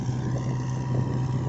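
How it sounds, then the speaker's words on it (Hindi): A Kubota MU4501 45 hp tractor pulling a reversible plow through a field, a steady, loud engine drone with low rumble and wind noise, unbroken throughout. "देखिए पूरी मिट्टी लेके जा रहा है ट्रैक्टर, स्पीड भी ज़्यादा है ट्रैक्टर की"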